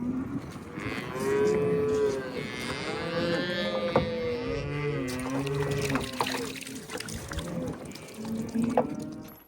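Cattle at a desert ranch during spring branding work moo repeatedly, several long drawn-out calls overlapping at close to middle distance over a faint trickle of water.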